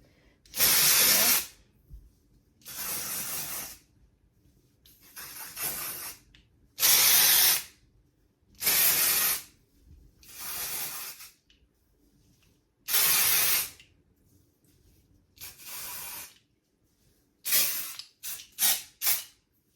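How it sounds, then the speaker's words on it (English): Dry shampoo sprayed through hair in about ten close hissing bursts, each roughly a second long with pauses between, ending in a few quick short puffs. "just take any kind of dry shampoo and we just kind of want to go throughout the hair"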